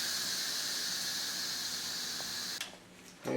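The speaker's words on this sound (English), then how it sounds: "we're ready to depressurize the pressure cooker" Steam hisses steadily and sharply from a pressure cooker being depressurized after cooking chili, a loud, high squealing rush that holds constant, then abruptly cuts off near the end.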